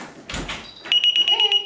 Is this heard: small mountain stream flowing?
no